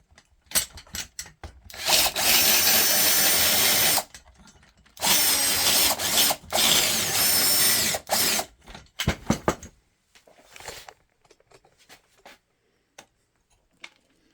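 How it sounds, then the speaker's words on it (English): A power drill whirs into wood in two sustained bursts, each about two seconds, drilling a new hole through a glued-in dowel on a wooden hand plane, followed by scattered clicks and handling noises. "drill a new hole"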